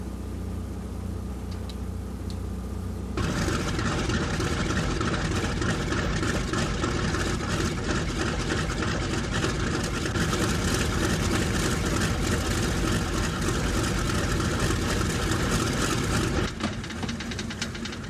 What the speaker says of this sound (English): Thad sits at the flight engineer's console to start all 4 engines.